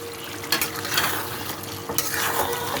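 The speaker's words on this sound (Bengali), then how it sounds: "আলুগুলো দিয়ে 1-2 মিনিট কষিয়ে আমি তারপরে জল দেবো।" Potatoes stir-frying with chicken in oil in a pan give a loud, continuous sizzle close by, broken by a few scraping strokes of a spatula, with no talking.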